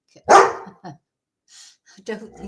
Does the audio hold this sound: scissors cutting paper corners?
no